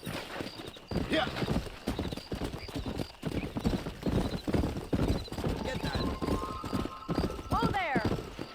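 A horse gallops in Red Dead Redemption, with rapid, steady hoofbeats running throughout under in-game talk. A whinny rises near the end.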